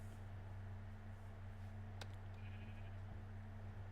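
A sheep in a video game gives a faint, brief bleat against a constant low electrical hum, with no talking.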